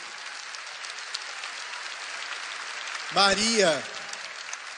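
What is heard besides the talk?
audience applause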